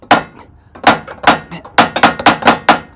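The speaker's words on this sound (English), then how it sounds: "So what I'm gonna do is take this trusty hammer right here." Sharp metallic hammer strikes on a stuck ball joint of a Lexus GS 300, close and loud, first a few spaced blows then a quick run of about six rapid hits.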